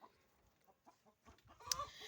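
A hen clucking in short, scattered bursts, ending in one loud, sharp squawk close by.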